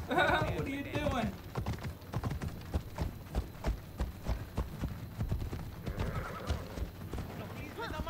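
Horse hooves clip-clopping steadily in the video game Assassin's Creed Odyssey, a regular rhythmic trot heard throughout, with neighing near the start and end.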